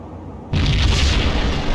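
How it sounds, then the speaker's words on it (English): A bomb goes off inside a slum building in the PC game Max Payne, a sudden loud boom that cuts in and rolls on as a dense, sustained rumble. "Another bomb exploded inside the closest slum building."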